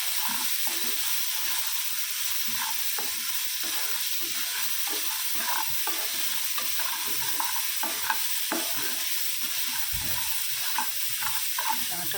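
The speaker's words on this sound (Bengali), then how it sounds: "আর এই যে ছোলা ভাজবো লঙ্কা তেল দিয়ে।" Chickpeas frying in chili-flavored oil, a continuous close sizzle with frequent stirring clicks and scrapes of a utensil in the pan throughout.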